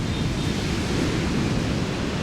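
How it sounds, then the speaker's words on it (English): Strong ocean waves surge onto a beach at Nha Trang, Vietnam, as a steady, loud roar of broadband surf and wind fills the whole stretch without a break. "And these are strong, strong waves."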